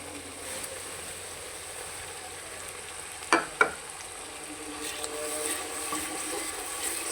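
Onions with garam masala fry in a pan with a steady, close sizzle, broken by two sharp clatters of the stirring spoon against the pan partway through.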